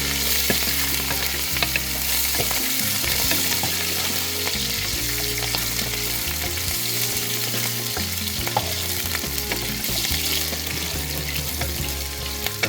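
Green chillies fry in hot oil in a pan for chicken biryani, giving a steady, dense sizzle with light stirring throughout, close and continuous with no talking.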